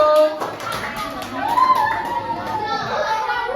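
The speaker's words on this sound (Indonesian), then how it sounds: "Tepuk tangan buat kelompok 1." A group of primary school children claps in a quick rhythmic burst in a classroom, then their voices and chatter take over.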